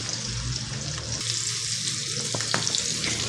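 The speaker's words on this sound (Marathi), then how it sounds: "आता हे छान आपल्याला सुरुवातीला गरम मोठा गॅस करायचा आणि आता बारीक गॅस राहायला छान आपण खमंग परतून घेऊया" Mackerel fries in a hot pan over a lowered flame, a loud, dense and continuous sizzle that holds steady from start to finish, close up.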